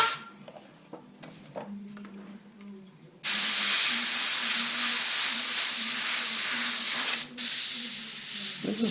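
An airbrush sprays paint in light dagger strokes while tracing the edge of a wood grain pattern, giving a loud, steady close-up hiss that starts after a few seconds of quiet handling noise and breaks off once briefly.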